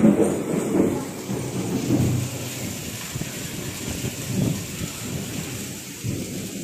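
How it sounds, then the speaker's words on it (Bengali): A heavy downpour drums steadily during a thunderstorm, with low rolling thunder rumbling through it, close and continuous with no talking. "চরম বৃষ্টি হচ্ছে।"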